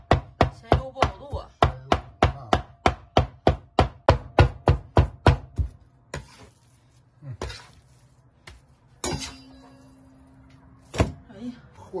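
Lamb filling for shaomai chopped on a board with a cleaver, a rapid run of loud, even thuds followed by a few scattered chops and scraping handling noises.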